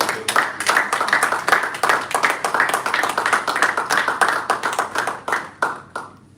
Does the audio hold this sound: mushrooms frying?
no